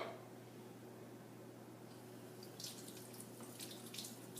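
A kitchen tap runs water over an egg that had been soaked in syrup, giving a faint, steady stream with a few splashy spatters toward the end and no voices.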